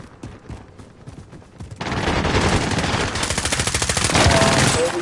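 Rapid bursts of automatic gunfire in a video game gunfight at an airport, starting quietly at first and then turning loud and sustained with dense overlapping shots, while players talk briefly over the comms.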